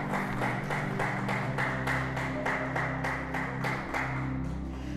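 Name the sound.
church congregation applauding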